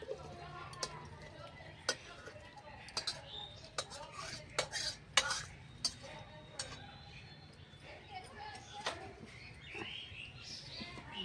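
Sautéed cauliflower being spooned into a clay pot, with sharp scattered clinks and scrapes of a metal spoon against the pot and pan, irregular taps over a faint background hum.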